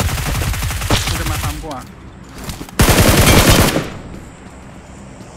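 Loud rapid-fire gunshot bursts in the mobile battle royale game PUBG Mobile, first under excited talking from players, then a sharp, dense volley near the end, followed by quieter background.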